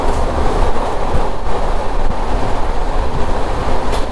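The Marusagar Express thunders through a tunnel, a dense, steady roar of wheels and rushing air that fills the space continuously and loudly with no break, close and enveloping.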